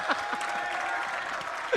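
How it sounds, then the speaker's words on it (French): An audience claps in a brief, steady burst during a French-language show, the applause dense and fairly close with a faint voice murmuring beneath. "Est-ce qu'on va applaudir pour..."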